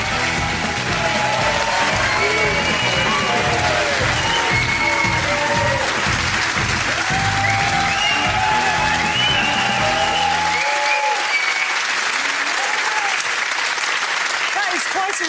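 A studio audience at a television chat show applauds and cheers as footballer Steven Gerrard walks on, loud dense clapping with scattered whoops that drops away abruptly near the end.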